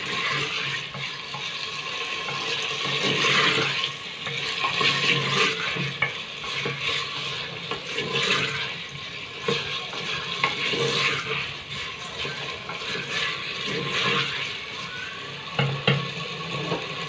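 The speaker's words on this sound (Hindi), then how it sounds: "एक मिनट के लिए हम आलू को इस तरह फ्राई करेंगे" Potatoes fry and sizzle in a pan with oil, a dense crackling hiss that rises and falls as they are stirred, close and moderately loud without talk.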